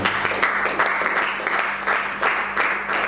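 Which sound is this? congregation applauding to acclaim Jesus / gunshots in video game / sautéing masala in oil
congregation applauding to acclaim Jesus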